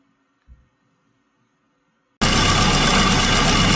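Classic Mini engine idling, starting abruptly after near silence with one soft thump, then a loud, steady, close-up running drone.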